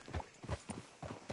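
Horse hooves clip-clop at a walk in Red Dead Redemption 2, a steady rhythm of about five or six close, moderately quiet hoof strikes with no talk.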